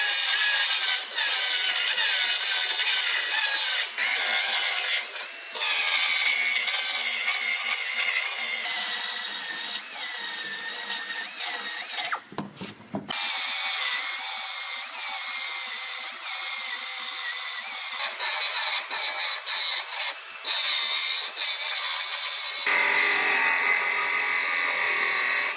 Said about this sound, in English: So I'm gonna go ahead and start cutting this outer panel off